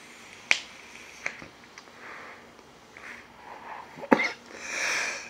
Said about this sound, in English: This one makes me cough a little bit.